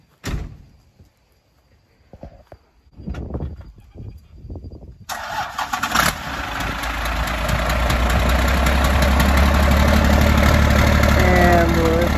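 After a few seconds of quiet thumps and brief voices, a truck engine fires up and settles into a loud, steady rumbling idle that holds to the end.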